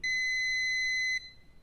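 A multimeter continuity beep sounds while a capacitor is checked during electronic circuit board repair: one steady, loud, high-pitched tone lasting just over a second, then cutting off abruptly into quiet background hiss.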